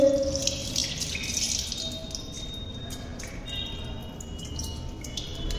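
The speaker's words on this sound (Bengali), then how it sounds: "দেখতেই পাচ্ছেন এগুলো ধুচ্ছে আমার দিদি" Things washed under a running tap at a sink during a home puja, with a steady close hiss of water and occasional faint clinks and splashes.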